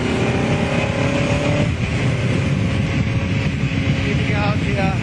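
Onboard engine roar of a Cooper Formula 1 racing car lapping Donington Park, loud and continuous with a steady droning pitch that shifts as the car changes speed, a voice talking over it.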